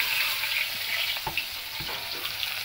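Onions and green chillies fry in a pan of oil with nigella seeds for mustard greens, a loud close sizzle broken by a few knocks of a utensil stirring.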